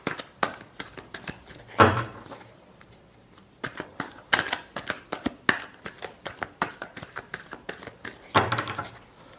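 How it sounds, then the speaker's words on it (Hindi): A deck of tarot cards is shuffled by hand at close range, with rapid crackling riffles in several bursts separated by brief quiet gaps. No voices are heard. "Last shuffle."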